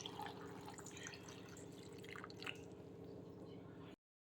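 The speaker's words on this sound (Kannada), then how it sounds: "ಇವಾಗ ನೀರು ಹಾಕ್ಕೊತಾ ಇದ್ದೀನಿ." Water is poured into a cooking pot of cauliflower florets to boil them, a steady trickling and dripping running continuously over a low kitchen hum and stopping abruptly near the end.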